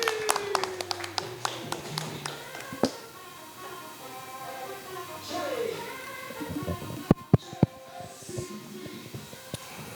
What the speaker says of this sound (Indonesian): Boleh tepuk tangan buat Pak Ismail